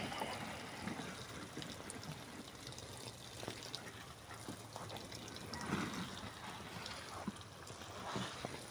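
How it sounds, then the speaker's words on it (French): Water trickles and splashes steadily onto transplanted pepper seedlings during generous watering, a soft continuous pouring heard close up without any talking. "c'est juste d'arroser les plants de manière assez abondante pour éviter les stress hydriques"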